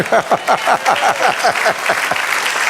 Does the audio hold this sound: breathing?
no